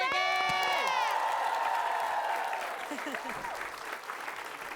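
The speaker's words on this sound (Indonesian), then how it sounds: "Kita kasih tepuk tangan buat Saiki" A studio audience applauds for Saiki at an Indonesian comedy show, a steady crowd clapping that follows a brief electronic whistle-like sweep and holds fairly loud throughout.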